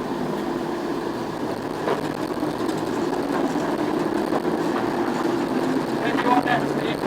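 Diesel shunter locomotive 08915 on a heritage railway, its engine droning steadily and close by as the throttle is wound up slowly, with a rough, continuous rumble that builds slightly and people talking over it.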